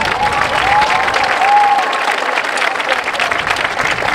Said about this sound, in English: Everyone give a round of applause for JJ.